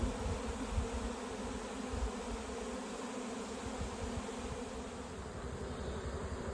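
A dense, steady hum of a swarm of honey bees buzzing together, continuous and fairly even, with no voices.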